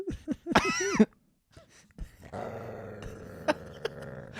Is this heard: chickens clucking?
no